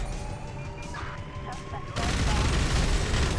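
Gunfire in GTA V, a Thai pickup-truck street mod, bursts in halfway through as dense loud rapid shots and crashes, while quieter scattered noise and talk fill the first part.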